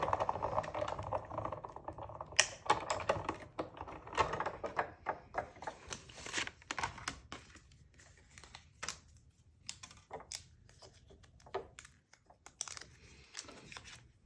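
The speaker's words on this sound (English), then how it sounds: "I'm just going to place that in my die cutting machine and run it through." Die cutting machine running a die through black cardstock, a close, quiet crunching and grinding with irregular clicks and taps as the plates feed through, fading toward the end.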